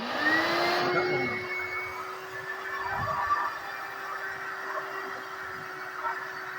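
A DC vacuum cleaner powered directly by solar panels runs with a steady motor drone and a clear whine that shifts pitch at the start, then holds level throughout, loud and close.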